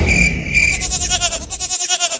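A goat bleats loudly close by, a nasal wavering cry in the first part, followed by a rhythmic pulsing sound with some faint background noise.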